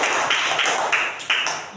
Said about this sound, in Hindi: आराध्या के लिए भाई एक जोरदार ताली